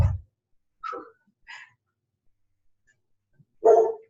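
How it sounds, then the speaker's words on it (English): A dog named as a pet barks a few times in a quiet room during a home yoga session, with short separate yaps spaced over several seconds and one louder bark near the end. "Hey, stop barking."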